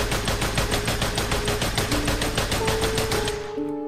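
A Thompson SMG in Minecraft fires in a rapid, steady stream of loud, close shots for over three seconds, then cuts off into quieter game tones.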